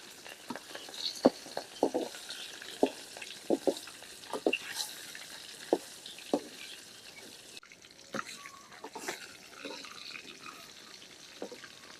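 Glass cup fish rubbed with turmeric and salt frying in hot oil in a pan, cooked village style: soft steady sizzling broken by sharp, scattered spitting pops at irregular intervals, fairly quiet and close.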